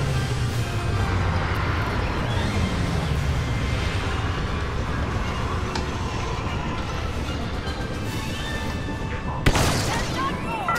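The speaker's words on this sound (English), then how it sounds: "Imperial reinforcements! Blaster turret." A blaster turret fires in the Star Wars Battlefront 2 campaign as a dense, continuous barrage of rapid shots under heavy rumbling battle noise, with one sharp louder blast near the end and voices talking over it.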